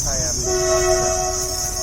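A train horn blares in a sustained, loud tone over the rumble of a passing train.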